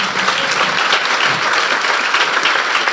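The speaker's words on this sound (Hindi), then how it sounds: "अपने लिए जोरदार तालियां बजा दें।" A church congregation at a Resurrection Day service bursts into loud, sustained applause, a dense wash of many hands clapping together for the full few seconds with no talk.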